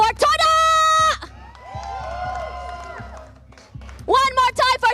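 A live esports crowd at a VALORANT qualifier cheers for Team Todak, a swell of shouts and whoops building up in the middle, with an announcer's loud voice before and after.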